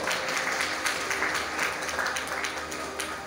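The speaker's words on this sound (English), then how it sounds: "Great round of applause." Steady applause fills a college inauguration ceremony hall, a dense, even wash of many hands clapping at moderate distance with no voices standing out.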